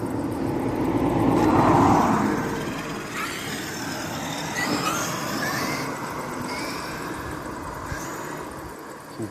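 A Traxxas Xmaxx RC car makes a speed run, its motor whine rising and swelling as it passes close by, then fading off into background rumble, with a few faint knocks near the end.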